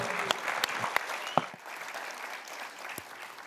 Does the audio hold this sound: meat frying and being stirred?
no